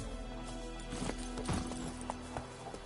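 A horse gallops in the video game The Witcher 3, with rhythmic hoofbeat clip-clops over a steady game background, close and moderately loud.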